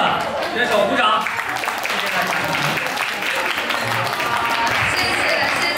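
Party guests at a Tokyo Chinese marathon club gathering clap for a runner who finished 100 km for the first time, a dense burst of applause lasting several seconds with voices mixed in.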